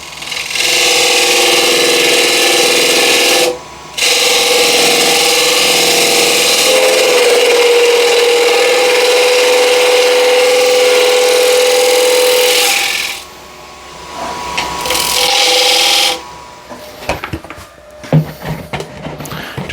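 A wood lathe spins a wooden piece as a gouge rounds it into a top, a loud close scraping and whirring with short pauses, a brief tonal whine mid-cut, then scattered knocks and handling sounds.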